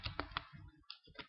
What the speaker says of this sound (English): Using my control, shift and down keys there to quickly select that.